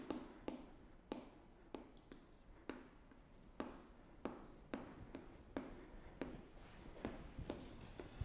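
Chalk or marker strokes on a board during a mathematics lecture on homology, a steady run of sharp taps and scrapes roughly every half second, close and clear with no talking.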